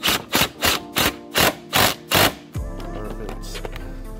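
A 13 mm wrench tightens the battery hold-down bolt on a 2013 Hyundai Santa Fe Turbo 2.0, with about seven quick rhythmic ratcheting clicks up close, then a steady low hum.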